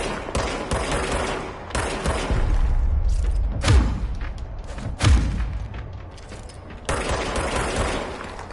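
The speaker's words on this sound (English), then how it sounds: "Shot it in its weak spot." Rapid bursts of gunfire and heavy thuds from combat in the video game Control, with dense automatic shots and booming impacts repeating throughout at close range, loud and continuous.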